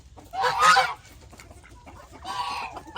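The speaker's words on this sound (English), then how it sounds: "Look at all the green-headed ducks we got now." Green-headed ducks calling among a mixed backyard flock with roosters: two loud, raspy honking bursts close by, one early and one near the end, separated by a quieter stretch of soft background clucking.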